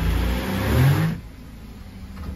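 A Mercedes car's engine revs up loudly under acceleration, swelling over about a second, then drops back to a quieter, rough idle-like hum. The car has a transmission that misbehaves in drive.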